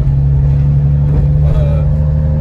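A Nissan 350Z with a naturally aspirated engine drones steadily nearby, a loud low hum with a brief rising rev partway through, close and continuous, with faint talk beneath.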